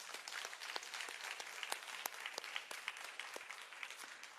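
A church congregation applauds during a Sunday service marking the church's founding anniversary. Dense, steady clapping continues throughout at a modest level, with a few sharper individual claps standing out and no talk.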